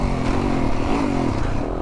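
A motocross motorcycle engine revs loudly and steadily with a rising, buzzy drone over rough wind and track noise, heard from close by with no talking.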